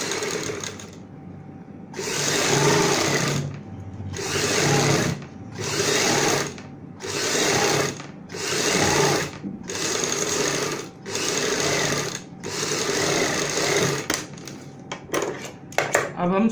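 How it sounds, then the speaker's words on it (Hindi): A sewing machine stitches a boat neck blouse, running in about eight loud whirring bursts separated by short pauses, with a voice speaking quietly in the background. "अब हम सिलाई के साथ साथ एक्स्ट्रा कपड़े की कटिंग कर लेते हैं।"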